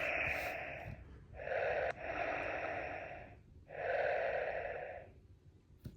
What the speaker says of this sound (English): He does a little breathing